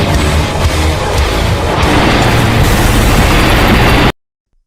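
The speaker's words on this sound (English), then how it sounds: "Godzilla has atomic breath." Godzilla's atomic breath roars as a loud, sustained, dense blast of rushing noise lasting about four seconds before cutting off abruptly into silence.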